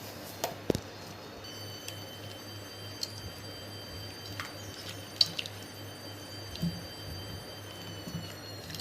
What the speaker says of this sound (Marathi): ह्या कापलेल्या शिरण्या आपण पाण्यात टाकायच्या आणि त्याच्या बिया काढून घ्यायच्या आहे